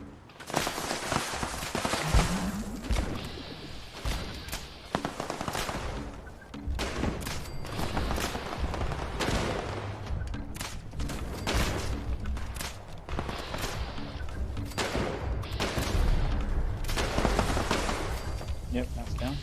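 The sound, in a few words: shotgun gunfire in the video game Fallout 76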